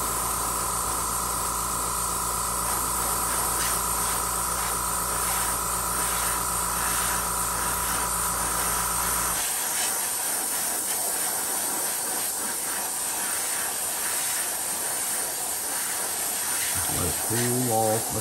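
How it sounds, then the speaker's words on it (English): A hissing air gun blows cool air over a freshly painted fishing lure, a steady broadband rush running the whole time, with a low tonal hum in the first half before it drops away. "It's got the air on the gun, let the cool air get it."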